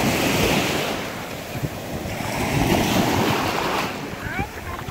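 Ocean surf breaking on a Maui beach, a continuous loud wash of waves with strong wind buffeting the microphone and faint voices underneath.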